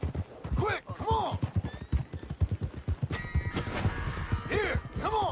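Horse hooves in the video game Red Dead Redemption 2 clip-clop in a quick steady rhythm, close by, with a horse whinnying several times over the galloping.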